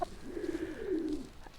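Pigeons coo in a single low, rolling call of about a second, near and moderately loud, with faint background noise and no talking.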